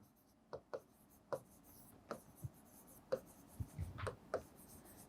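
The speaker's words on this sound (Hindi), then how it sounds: "मैं लिख देती हूँ पहले एक बार" Pen or pencil writing a numeric answer on paper during a Class 6 maths olympiad solution, faint close scratches and taps in short irregular strokes, with no talk over it.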